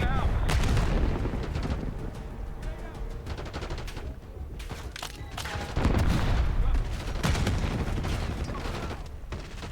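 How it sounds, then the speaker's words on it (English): Explosive charges go off in Call of Duty: Black Ops 6, loud booming blasts rolling into dense gunfire and rumbling debris, with a second heavy surge partway through and brief voices amid the din. "Blow those charges, Case!"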